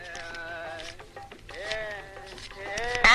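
Goat bleats in a busy comedy scene at a roadside tea stall in a Tamil film, several wavering calls close by, with a louder burst at the end.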